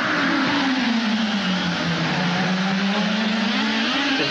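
An IndyCar race car on the 2010 Toyota Grand Prix of Long Beach street circuit roars loudly and steadily down the front straightaway, its engine pitch sagging slightly and then climbing again, with no talk.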